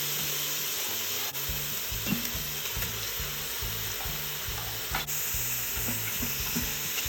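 Beef searing alongside onions in an Instant Pot for Texas chili, a steady bright sizzle with occasional stirring scrapes and soft knocks of a utensil against the pot, close and continuous.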